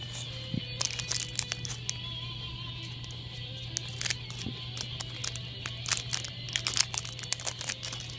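Scissors cut open trading card packs up close, with crinkling foil wrappers and irregular snips and crackles over a steady low hum.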